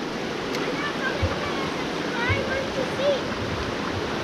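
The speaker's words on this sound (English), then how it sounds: "look at that pretty waterfall on Wolf Creek" A waterfall on Wolf Creek in Vogel State Park gives a steady, even rush of falling water that fills the whole clip, with soft voices faintly underneath.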